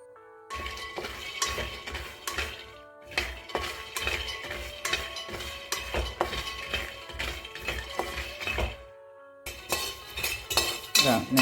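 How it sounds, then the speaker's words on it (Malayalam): A cup of peanuts dry-roasting in a pan, rattling and clinking against the metal in near, repeated bursts of stirring, with a brief pause before the rattling resumes. "ഒരു കപ്പ് നിലക്കടല എടുത്തിട്ടുണ്ട്. അത് നമുക്ക് നല്ലതുപോലെ ഒന്ന് വറുത്തെടുക്കണം."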